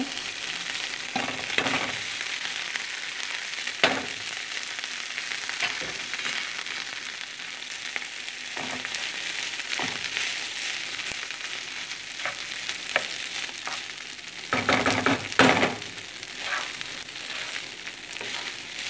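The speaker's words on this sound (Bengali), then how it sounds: "রাইসটাকে আমি এক মিনিটের মতো ঘিয়ের মধ্যে ভাজবো" Rice frying in hot ghee with garam masala for a sweet jorda dish gives a steady, bright sizzle throughout, broken by occasional stirring scrapes and clinks from close by.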